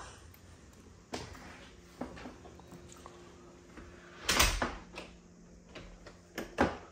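A door closes with a solid thud, and a lock then clunks and rattles with several sharp knocks, as if the latch is stiff to turn. A few quieter bumps come before it, with no voices.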